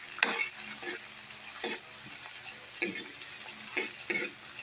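Tomato, garlic and onion sauté in a pan, a soft steady sizzle broken by about six regular scraping strokes of a spatula, fairly quiet and close with no speech.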